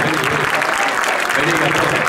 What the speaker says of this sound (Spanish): Aplausos para Gastón.